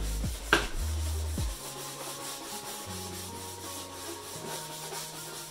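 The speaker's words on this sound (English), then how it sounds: "go over the whole surface, loosen up any dirt, residual wax on the surface there" A brass brush scrubs a snowboard base to loosen dirt and old wax, a close rhythmic scratchy rubbing with one sharp knock near the start, no talking.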